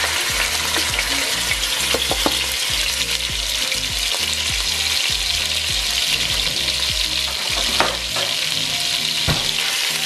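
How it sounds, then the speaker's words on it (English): Ground beef for spaghetti sauce sizzles and fries loudly in a pan, close up. The steady crackle is broken by the scrape and clatter of stirring at an irregular rhythm, with no voices. "Fry that up real nice."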